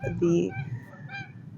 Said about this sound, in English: It's kind of windy and the ducks are very loud.